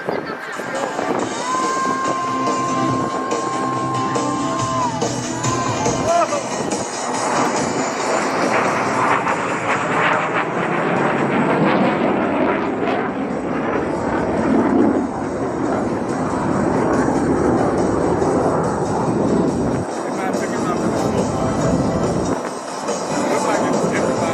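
Jet aircraft making a smoke-on pass at the 2022 New Orleans airshow, accelerating to about 500 mph, a loud continuous roar that swells and holds across the whole stretch, with an announcer's voice over the PA.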